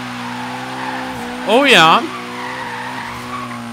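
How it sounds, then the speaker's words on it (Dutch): A car drifting in Forza Horizon 3, its engine droning steadily before a sharp, wavering tire squeal of about half a second rises over it, with someone speaking briefly. "Geloof het of niet, dit ding kan daadwerkelijk driften."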